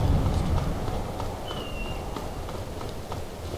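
A horse in the video game Skyrim gallops with a rapid, even clip-clop of hooves, fairly close and steady over a dull background rumble.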